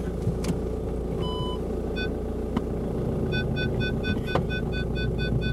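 An Audi A3 S backs up with a brake pedal that sinks to the floor, its reversing sensor beeping in short repeated bursts over a steady low engine rumble. The sound is close and continuous.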